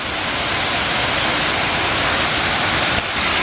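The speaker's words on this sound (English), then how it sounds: "Look at that waterfall." Rushing water from a waterfall on Turkey Creek in Alabama roars in a steady, dense wash of noise, loud and unbroken, heard up close.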